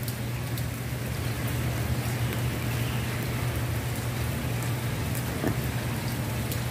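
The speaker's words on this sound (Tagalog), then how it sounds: "Ulan talaga." Steady rain falls in Riyadh, a dense, even hiss of drops on surfaces with a low constant hum beneath, continuous and moderately loud throughout.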